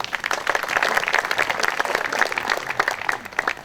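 Attendees at a 2025 May 18 commemoration ceremony clap together in sustained, lively applause, a dense patter of many hands that stays strong throughout and is heard on its own.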